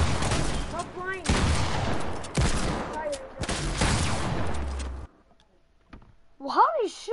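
Gunfire in the Fortnite game: several loud bursts of rapid shots in close succession, mixed with someone talking and game sounds, then a quiet gap and a short swooping tone.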